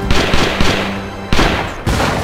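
Knee mortar rounds firing and exploding in a cooperative shooter video game, a loud burst of several heavy booming blasts in quick succession, close and dominant.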